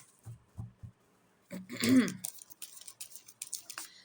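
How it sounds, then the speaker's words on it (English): Tarot cards are shuffled by hand close by: quiet, crisp papery flicks and riffling bursts, with a louder rustle near the middle and soft scattered taps after. "I'm shuffling the cards."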